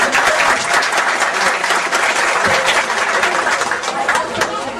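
A small audience at a community event in Tauá claps steadily for about five seconds, dense and fairly loud, with faint crowd murmur mixed in.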